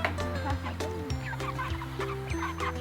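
Chickens cluck and squawk steadily in a busy flock during feeding, close and fairly loud, with overlapping calls and no talk.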